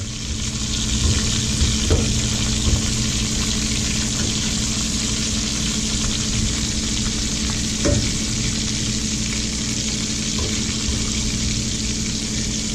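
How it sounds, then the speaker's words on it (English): Meatballs sauteing in canola oil in a home kitchen produce a steady, dense sizzle and crackle that holds close and even throughout, with a few brief clinks of a utensil against the pan. "we started to saute our meatballs in canola oil"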